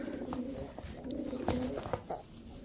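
A large silver male pigeon cooing softly nearby, a few low repeated throaty coos with faint rustling in the background.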